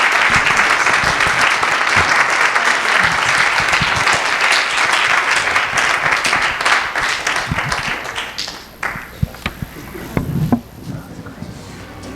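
A large live audience bursts into loud, sustained applause for a singer, dense clapping filling the room for several seconds before thinning into scattered claps near the end.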